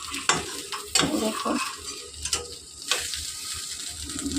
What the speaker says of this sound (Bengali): এপিট ওপিট করে আমার কত সুন্দর করে ভাজা হয়ে গেছে।